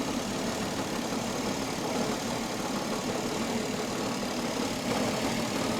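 A 1967 Ford Mustang engine idles steadily with the air cleaner fitted, a continuous even rumble with no intake roar, close by and unchanging.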